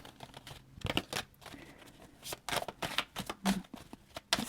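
Tarot cards shuffled by hand in a run of crisp riffling bursts and soft slaps, close and fairly quiet, with no talk over them.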